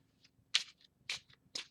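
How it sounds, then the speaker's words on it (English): A deck of Lenormand cards being shuffled close by: soft, quiet riffling bursts, three stronger swishes with lighter ones between, in a loose rhythm. "I'm going to give this more shuffling"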